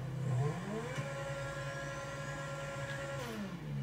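Car engine in a video game revving steadily, a rising then sustained mechanical drone that holds at one pitch before dropping away at the end, loud and alone with no talking.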